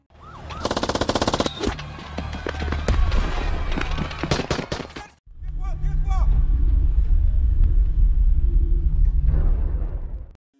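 Film battle scene with loud explosions and gunfire, dense and chaotic, a sustained roar with a brief break midway, with sirens and shouting mixed in.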